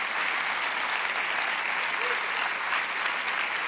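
A congregation at a Spanish-language church sermon breaks into steady, full applause, a thick continuous roar of many hands that holds evenly throughout, with a faint voice briefly audible within it.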